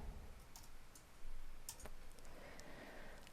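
Computer keyboard keys tapped while entering a value into budgeting software: a few scattered, faint clicks spread over a few seconds against a quiet room background.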